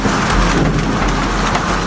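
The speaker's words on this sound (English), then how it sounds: "The afternoon storm, fast and furious, lashing the southeast from the Sunshine Coast to the Gold Coast." Severe afternoon thunderstorm in southeast Queensland with heavy rain and cricket-ball-sized hail: a dense, loud roar of rain and hail pounding surfaces, with sharp impacts and low rumbling, continuous and unbroken.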